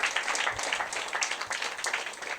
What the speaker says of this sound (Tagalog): malakas na palakpak kay Lord